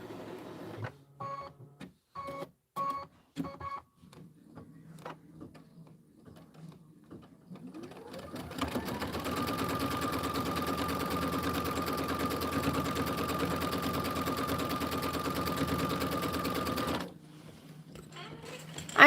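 A sewing machine stitches a quilt border. Several short bursts of stitching start and stop, then the machine runs continuously for about eight seconds at a steady, fairly loud whir before stopping.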